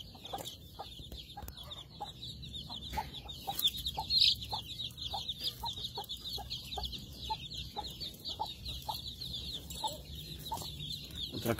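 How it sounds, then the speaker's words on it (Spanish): Many chicks cheep continuously in a high, busy chorus, with soft clucks and scratching beneath, close by and steady throughout. "Vamos a presentarle la mayoría de pollitos que tengo"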